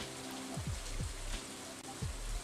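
Steady rain patters across the Stardew Valley farm on a fall evening, a soft even hiss under low tonal game music that sweeps gently up and down in short recurring swells.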